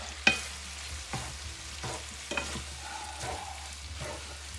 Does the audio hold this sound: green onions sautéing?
yes